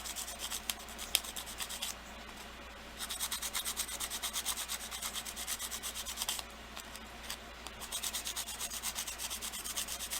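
Fine-grit sandpaper rubbing over a polymer clay piece coated in glitter, a steady close scratchy rasp in rhythmic strokes, pausing briefly twice along the way.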